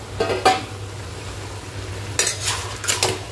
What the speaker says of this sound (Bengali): ফুলকপি, চিংড়ি মাছ সব এবারটাকে ভালো করে নাড়াবো।